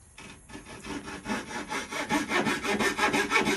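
Hand saw cutting wooden crown moulding, a close rasping stroke rhythm that starts faint and builds to steady, quick back-and-forth strokes.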